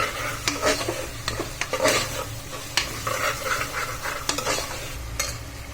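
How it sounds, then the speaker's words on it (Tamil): Onions sauté in a pan for paneer biryani, with a continuous sizzle broken by frequent spoon-against-pan clatters and scrapes as they are stirred close by. "வெங்காயம் நல்லா வதங்கணும், அதுதான் விஷயம்"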